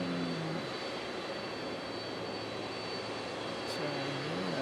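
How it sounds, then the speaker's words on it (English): An ATR 42 turboprop airliner at Nagasaki Airport, a steady loud engine drone with a whining tonal hum, continuous and unchanging, with no voices. "it's a lovely aircraft. Yeah, we could probably use ATR 42s in New Zealand."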